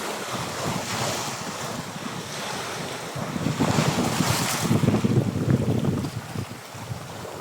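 Big waves crash on a rocky seashore while a cold, strong wind blows, making a loud, continuous roar that swells and surges in the middle. No one speaks.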